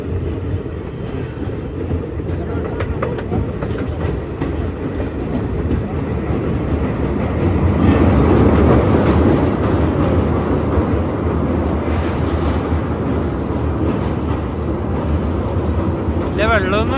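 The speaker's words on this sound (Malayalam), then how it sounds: "ടണല് കഴിഞ്ഞ് ഇനിയിപ്പിതാ ബനിഹാളിലേക്ക് ട്രെയിൻ എത്തിക്കൊണ്ടിരിക്കുകയാണ്" Train running on a mountain rail line after leaving a tunnel near Banihal, a steady loud rumble with rhythmic clickety-clack of wheels, swelling midway, with a voice talking over it.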